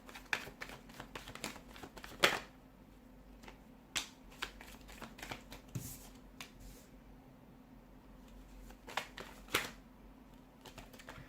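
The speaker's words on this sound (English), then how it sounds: "give the cards a shuffle" A deck of tarot cards is shuffled close by, giving soft riffles and sharp flicks and taps at irregular intervals over quiet room tone, with no talking.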